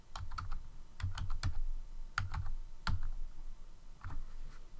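Keystrokes on a computer keyboard as a command is typed into a remote Windows server session, a quick irregular burst of close, crisp clicks with brief pauses between clusters.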